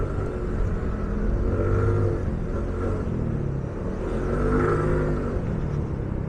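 A Suzuki Address scooter engine labours uphill, a steady close drone that swells and eases in waves over several seconds.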